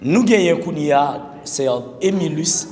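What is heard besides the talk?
No everyday noises stand out.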